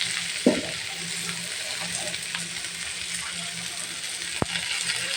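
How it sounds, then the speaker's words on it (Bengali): Ginger garlic paste drops into hot oil and sizzles in a steady low crackle, with a brief clatter early on and a sharp tap near the end. "এখন আমি আদা রসুনের পেস্টটা দিয়ে দিচ্ছি।"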